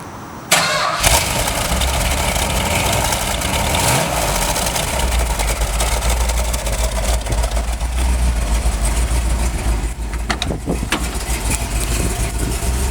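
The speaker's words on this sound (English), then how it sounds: "we're going to be starting a 1970 Hemi Cuda 426 Hemi with hydraulic lifter camshaft" A 1970 Hemi 'Cuda with a 426 Hemi and hydraulic-lifter camshaft cranks briefly and fires, then settles into a loud, steady, lumpy idle with a deep rumble that keeps on without a break.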